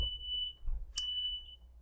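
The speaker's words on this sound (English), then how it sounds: "Sounds like the fire alarm went off." A hotel fire alarm sounds a sustained, fairly faint electronic tone, broken briefly by a sharper burst before the steady tone resumes, with no one talking.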